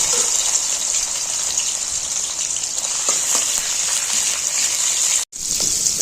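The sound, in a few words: prawns frying in oil in a wok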